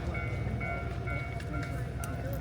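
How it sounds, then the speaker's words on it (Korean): A JR train rumbles steadily as it rolls into a very small station in Japan, a loud low drone with faint clanks and voices nearby. "기차가 들어옵니다."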